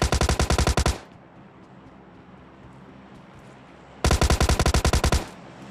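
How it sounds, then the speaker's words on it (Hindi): Automatic gunfire in the battle-royale game PUBG Lite: two loud, rapid bursts of shots, one at the start and another near the end, with a quiet gap between them. "तभी मुझे यहाँ से फायरिंग आती है बंदों की।"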